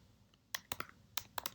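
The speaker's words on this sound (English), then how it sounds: "I just made a quick mistake and that I have to redo the typing" Typing on a computer keyboard: a handful of sharp, close keystroke clicks in two quick bursts, irregular in rhythm, over a quiet background.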